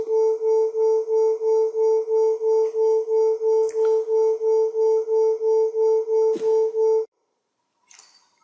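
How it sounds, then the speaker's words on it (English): Two pure sine tones at 443 Hz and 440 Hz sounding together, producing a steady pulsing beat that swells and fades in regular throbs for about seven seconds before cutting off, followed by a brief faint noise. "Now the green frequency is 443 hertz and the red frequency is still at 440 hertz."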